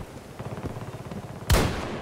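A single sharp sniper rifle shot in Battlefield 2042 cracks out loud near the end, following a low rumbling rhythmic background of game noise.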